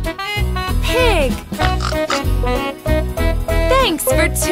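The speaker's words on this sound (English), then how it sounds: "Pig." Cartoon pig oinking in a children's farm-animal nursery song, several snorty oinks repeating over a steady, loud musical backing with sung or spoken voices.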